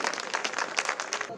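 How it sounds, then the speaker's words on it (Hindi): Loud applause from the audience at a comic gathering in Hindi, a dense burst of many hands clapping close by that stays strong through the short stretch. "इनके सम्मान में एक बार जोरदार तालियां बजाएं"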